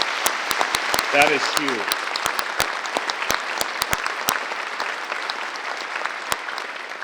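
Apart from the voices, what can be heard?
applause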